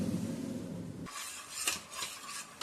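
A metal ladle clinks and scrapes against a pot while ghevar batter is poured, a few sharp ringing taps after a low muffled start, close and fairly quiet.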